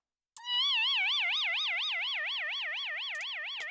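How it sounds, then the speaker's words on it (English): Synthetic heat haze sound effect for a streamer's avatar view: a steady high warbling tone with a sharp start, wavering evenly up and down like a slow siren and slowly fading. "I have like a heat haze effect that kicks in that makes my avatar view go wavy."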